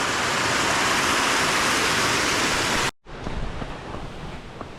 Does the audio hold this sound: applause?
no